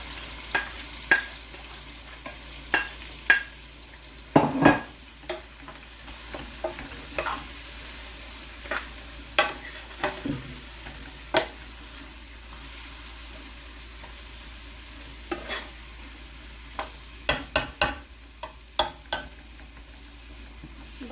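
Chicken gizzards stir-fry in a pan with a steady low sizzle, while a utensil scrapes and knocks against the metal in scattered sharp clicks, near and alone with no talking.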